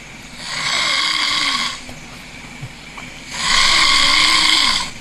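A person snores loudly in two long rasping breaths, each lasting over a second with a quieter pause between, heard close and alone.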